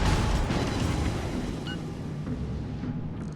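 Naval ship guns fire in World of Warships Legends from a Tier 7 premium cruiser, giving a heavy low boom that rumbles and fades over a few seconds, with faint secondary pops layered in.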